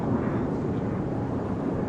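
Jet aircraft engines roar steadily at an airshow, a continuous loud broadband rumble from an aerobatic team's jets with no break and no talk.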